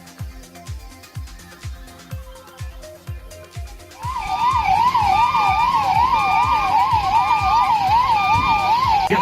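Wailing emergency vehicle siren at a Gail India fire drill with fire service vehicles, starting after a rhythmic mechanical thumping and then rising loud and steady in repeated up-down sweeps close by, with no talk.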